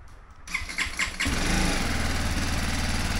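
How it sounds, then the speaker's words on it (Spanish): A BMW G310 GS motorcycle starts with a few cranking pulses, then its small engine catches and settles into a steady, buzzy idle, close up with no talk. "El motor se oye de pequeño"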